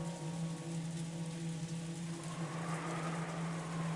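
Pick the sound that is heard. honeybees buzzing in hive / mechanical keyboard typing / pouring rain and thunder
pouring rain and thunder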